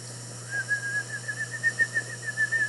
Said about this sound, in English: if you could whistle, see if you can whistle.